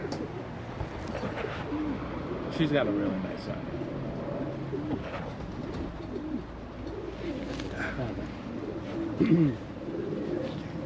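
A racing pigeon coos in low, rolling bursts, fairly close and moderately loud, while people talk over it throughout.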